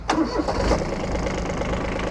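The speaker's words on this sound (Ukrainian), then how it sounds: "Заводиться трактор ідеально." A Kubota Aste A-14 mini tractor diesel engine, glow plug preheated, cranks briefly, catches and settles into a steady, close idle.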